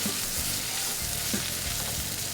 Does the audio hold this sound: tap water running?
no